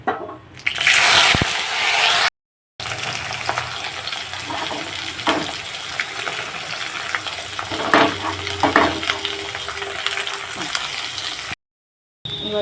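Chopped potatoes, raisins and cashews frying with cloves and cardamom in a pan, with a loud, steady, hissing sizzle and occasional stirring scrapes, close up, cut by two brief silences.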